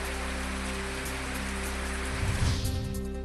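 Heavy unseasonal rain pours down in the Yedshi-Yermala area of Dharashiv district, a dense, constant hiss of falling water that swells slightly near the end.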